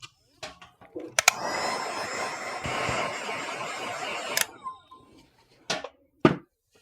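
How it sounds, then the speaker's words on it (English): A hair dryer drying paint blows with a steady whooshing roar for a few seconds, bracketed by soft clicks and handling noises. "Okay, I'm going to use my dryer."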